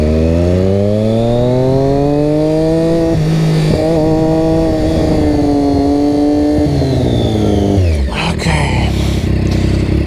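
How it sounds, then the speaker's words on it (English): A motorcycle engine revs with the clutch pulled in and holds high, its pitch rising and wavering, then drops abruptly into a rough idle. "I was still revving it, but I had the clutch in."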